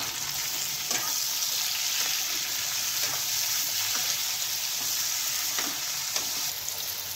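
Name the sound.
eggplant, tomatoes and potatoes being stirred and fried in a pan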